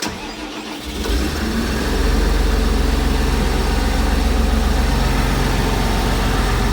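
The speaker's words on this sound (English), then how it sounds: "I'm gonna fire it up and run in a minute now" A vehicle engine cranks and catches after an air conditioning repair in a shop, then settles into a loud, steady low idle that runs on alone to the end.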